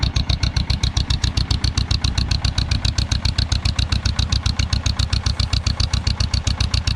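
A 1948 John Deere M and a 1949 Farmall C tractor engine idling after a cold start, a loud, steady chugging putt-putt with a fast even rhythm of firing pulses close by, no talking.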